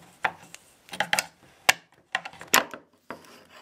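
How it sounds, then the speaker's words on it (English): A straight-blade screwdriver pries the plastic wheels off a computer chair base, making several sharp clicks and pops with scraping knocks between them, close and in irregular bursts. "just take your straight blade screwdriver and pry all the wheels off"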